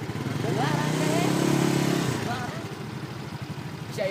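A motorcycle engine runs close by with a steady low drone that swells and then eases off, while people talk over it.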